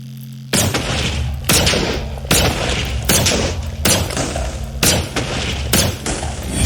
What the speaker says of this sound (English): So let's try the crab cannon.